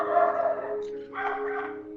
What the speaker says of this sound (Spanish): hay perros callejeros, entonces como si escuchan ladridos de fondo